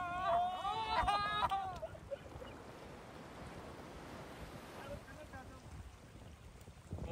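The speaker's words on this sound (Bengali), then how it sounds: "সামনে শুধু সমুদ্র আর সমুদ্র" Sea waves wash against the shore in a broad, steady roar with gusts of wind buffeting the microphone, while a voice speaks briefly at the start over the surf.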